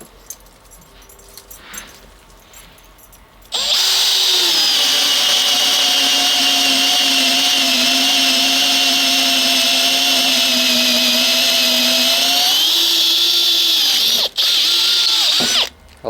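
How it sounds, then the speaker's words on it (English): A Makita XPH07 cordless drill spins up loud and steady, driving a 1-inch auger bit through wood for about ten seconds, its pitch dipping under load, then a brief stop and a short second burst. "I like these auger bits because I don't have to push them through. They pull themselves through automatically."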